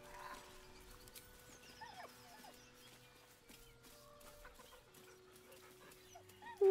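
A dog whimpers softly in the video game Baldur's Gate 3, with a few faint, thin whines and squeaks over quiet tonal game ambience, ending in a brief loud burst.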